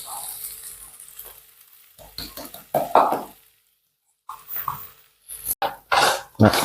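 Masala of coriander, chilli and turmeric powders fries in a pan for a crab roast. Sizzling and stirring come in short, uneven bursts, broken by a stretch of near silence midway.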